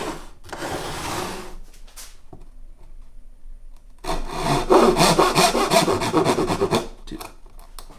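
Hand saw cutting a slot for a wooden acoustic guitar brace, with a short burst of rasping strokes, a pause, then a longer run of steady close-up back-and-forth sawing.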